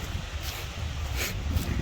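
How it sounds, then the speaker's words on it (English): Steady wind rushing and buffeting a nearby microphone in the Smoky Mountains, a constant low roar with faint rustling, no voices. "it's been nothing but windy since I think day one"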